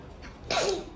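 A single sharp human sneeze, close and abrupt, preceded by a faint intake of breath.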